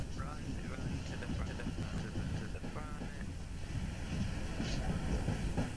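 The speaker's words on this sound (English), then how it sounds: "The train goes right to this house." A train in Garry's Mod rumbles steadily along the rails with a continuous clattering roll, loud and close throughout, with faint squeals and creaks over the running noise.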